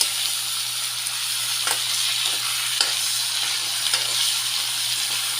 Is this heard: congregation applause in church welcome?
no